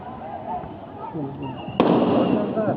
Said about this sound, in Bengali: গুলির আওয়াজ শুনতেছি মিয়া, শুনেন?